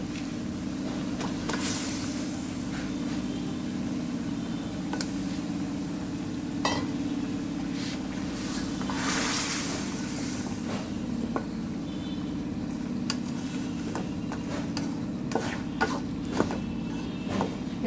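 Fish frying in a pan for a Bengali dish, a steady low sizzle running throughout with scattered stirring scrapes and clinks of utensils, no talking.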